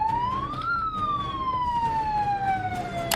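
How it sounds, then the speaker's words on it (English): A megaphone set to siren mode wails loudly on its own, its tone rising sharply and then sliding slowly back down in one long sweep. "I'm gonna turn the megaphone on siren mode and throw it in there because I have no way of turning it off."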